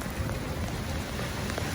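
Dense, steady rainfall during a thunderstorm on an NYC roof hisses continuously, a close wash of drops with no voices or other sounds breaking through.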